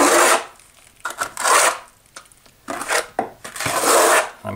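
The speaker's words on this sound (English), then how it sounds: "with the flat edge of the trowel, we're just applying some here and basically kind of skim coating the surface" A trowel's flat edge skim-coats thinset across shower wall board, giving rough scraping strokes in uneven bursts, each a loud rasp followed by a brief pause, close by.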